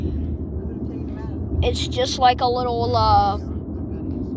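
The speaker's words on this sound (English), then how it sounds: "we're currently in the helicopter flying right now" Helicopter cabin on a pleasure flight, with a steady low rotor and engine rumble filling the background throughout while a voice talks over it.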